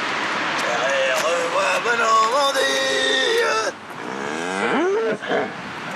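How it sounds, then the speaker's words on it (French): Two cows mooing close by in long drawn, wavering calls, one after another, with a person speaking briefly in between. "Ah ouais, c'est deux vaches."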